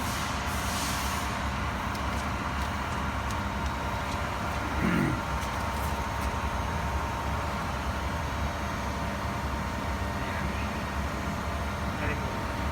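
A Favretto grinder with Siemens controls runs with its wheel spinning, giving a steady mechanical drone with a constant hum that holds evenly throughout, with a brief slight swell midway.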